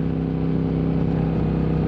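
A KTM 990 Superduke motorcycle engine hums steadily and close for under two seconds, a low, even drone without pauses.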